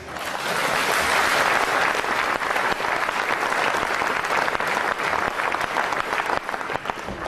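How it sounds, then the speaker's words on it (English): Sustained applause from a large audience in a conference hall at the UKIP autumn party conference in Bournemouth, dense and loud clapping that holds steady throughout with no speech over it. "Give yourselves a round of applause."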